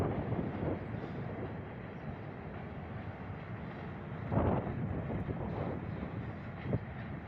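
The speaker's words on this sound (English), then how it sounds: "It's a long train, that's for sure." A long Union Railroad freight train rumbles past steadily and loud throughout, with wind buffeting the microphone and a few brief louder surges of wheel and car noise.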